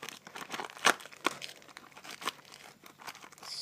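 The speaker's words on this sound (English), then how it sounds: "let's unwrap these things" Crinkly plastic of Shopkins Season 4 blind bag packaging is torn and unwrapped up close, in soft scattered crumples with a few sharper tearing crackles, and no talking.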